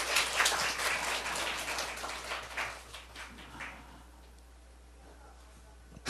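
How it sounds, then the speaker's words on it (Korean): A church congregation claps in praise during a Sunday service, a fairly faint burst of applause that fades out over a few seconds into quiet room tone. "우리 하나님께 박수 올려드려요"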